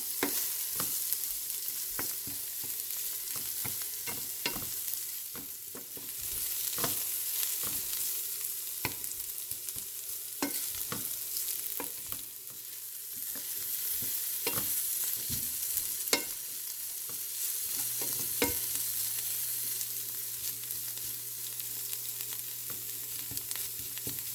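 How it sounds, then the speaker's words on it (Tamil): Okra fry with grated coconut is stirred in a pan, a soft steady sizzle broken by repeated sharp spoon scrapes and taps, close up. "அதால் நான் தேங்காய் பூச்சி வைக்கிறேன் நல்லா சேர்த்து விடுவோம்"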